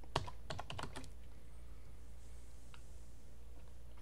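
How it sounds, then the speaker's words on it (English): A superuser password being typed on a computer keyboard: a quick burst of about eight light key taps in the first second, then near silence with a steady low hum and one faint late click. "so you type in your super user password"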